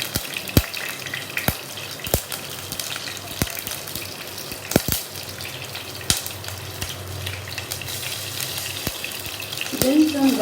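Chopped green chilies hit a hot pan and sizzle steadily up close, punctuated by sharp irregular clicks and knocks of a utensil against the pan, with a louder burst of frying near the end.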